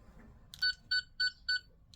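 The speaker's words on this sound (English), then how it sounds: "in a minute it will beep at you" Four evenly spaced electronic beeps from a toy sonic screwdriver, short and bright, followed by a brief chirp, over faint background hiss.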